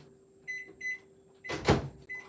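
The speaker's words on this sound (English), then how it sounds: "I'm gonna just pop this in the microwave" A microwave oven runs a short ten-second burst to melt a drizzle topping, with a steady low hum, a couple of brief beeps, and a loud clunk of the door near the end.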